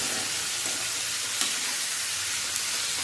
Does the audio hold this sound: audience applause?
no